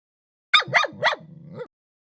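A dog gives three sharp, close barks in quick succession, then a short low growling bark, and the sound stops after silence at the start, with no voices.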